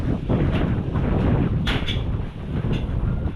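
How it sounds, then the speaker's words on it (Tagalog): Strong outdoor wind buffets and roars in continuous gusts, with rushing broadband noise and a couple of brief brighter swells, no voices heard. "Wala ka namang bagyo pero malakas ng hangin ha"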